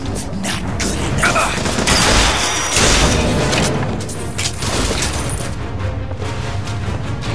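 Gunfire in the video game Bioshock Infinite Burial at Sea, dense bursts of shots and booming impacts mixed with mechanical clatter, loud and continuous throughout, with a voice speaking faintly beneath.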